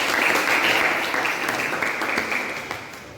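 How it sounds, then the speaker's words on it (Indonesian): Steady applause for a presenting group during an automotive engineering teacher-training assessment, a dense crowd of clapping hands that slowly fades. "tepuk tangan untuk kelompok 4"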